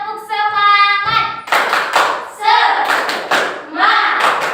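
A classroom of students performs a rhythmic 'tepuk semangat' spirit clap, sharp clap bursts in quick patterned groups alternating with short shouted chant and a teacher's voice.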